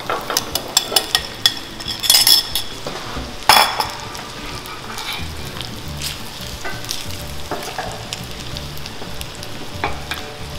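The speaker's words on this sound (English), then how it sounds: "And we'll scramble the eggs." Eggs are scrambled in hot oil in a pan, giving a steady sizzle broken by sharp scraping and clinking of a utensil against the metal, loudest in a few quick bursts early on.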